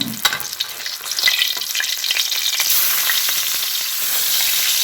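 Pompano fish frying in a pan of oil, a loud, dense, continuous crackling sizzle that builds and holds steady, close up with no voices.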